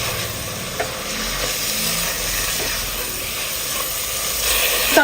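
Chopped medium tomatoes hit hot onions in a pan and sizzle steadily, with a constant close frying hiss and occasional stirring scrapes for a porotta meal, no voices.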